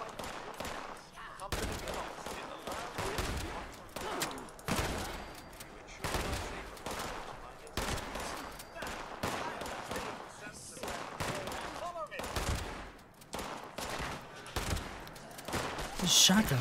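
Repeated shotgun blasts in Fallout 76 gameplay, a steady run of loud, evenly spaced booms over about sixteen seconds with players talking in between.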